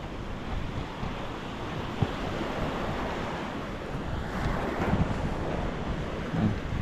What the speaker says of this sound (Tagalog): Napakasarap ng simoy ng hangin pagka nasa tabi ng dagat.